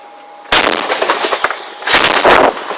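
Gunfire cracks overhead during mortar shelling in a Ukrainian war zone, arriving as two loud, dense bursts of rapid firing separated by a short lull, with no talk.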